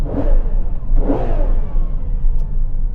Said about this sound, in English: Let's just annoy these people with some revs.